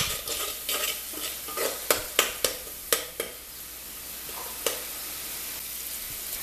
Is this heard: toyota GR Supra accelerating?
no